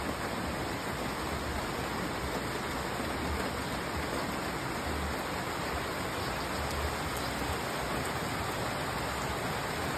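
Heavy rain pouring down in a rural countryside setting, a dense, constant roaring wash of water that stays loud and unbroken throughout.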